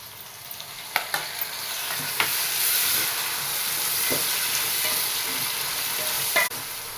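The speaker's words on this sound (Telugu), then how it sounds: "ఆనియన్స్ బాగా వేగిన తర్వాత కరివేపాకు వేసానండి" Onions and curry leaves sizzle and fry steadily in a pan for a Nellore-style fish curry, a close continuous hiss with a few sharp stirring clicks and taps against the pan.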